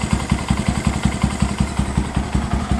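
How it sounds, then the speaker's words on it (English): A 2022 Honda Grom with a new intake idles while warming up, a close, loud, steady low-pitched thumping pulse with an even rhythm and a faint mechanical clatter. "gonna let the bike warm up, and then yeah, we'll give it some revs"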